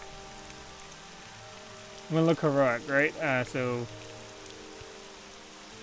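Steady rain hiss in the Morrowind video game, a constant soft wash underneath someone speaking briefly in the middle.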